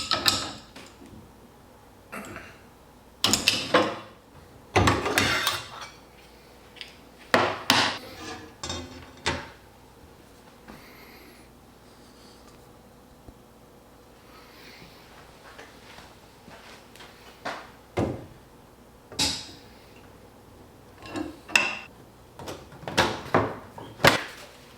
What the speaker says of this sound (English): we'll need to change out our table saw blade for a rip blade with a flat tooth grind